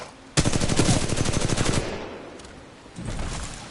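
A loud, rapid stream of automatic gunfire with recoil erupts in Titanfall 2, holds for about a second and a half, trails off, then picks up again more faintly near the end.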